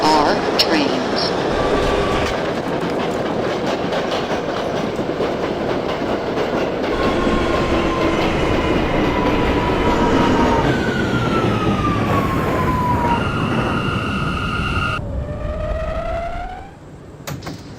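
An R179 subway train running on a C local line in the openBVE train simulator, a steady loud rolling rumble with rail noise, whining motor tones rising and falling, and a brief fade near the end.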